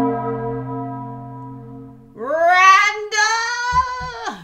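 A summoning bell sound from the video game Dialtown: a sustained, ringing bell-like chime for about two seconds, then a louder, rising tonal call that swells and fades.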